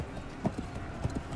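Horses gallop in the video game Blood of Steel, a quick irregular clip-clop of hooves mixed into a dense background of battle noise, moderately loud with no clear speech.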